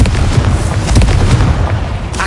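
A Confringo fire spell blasts in Hogwarts Legacy, a loud, dense run of booming explosions and crackling bursts that fills the whole short stretch with no pause.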